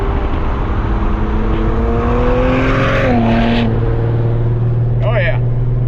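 Twin-turbo V6 Mustang accelerating hard, the engine note climbing steadily through a gear change with turbo whistle carrying through the exhaust, loud and close, with people talking over it.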